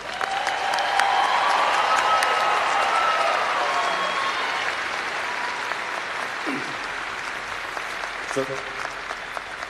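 An audience applauds new veterinary doctors at a college hooding ceremony, a broad sustained wash of clapping that slowly fades as a speaker's voice comes in near the end.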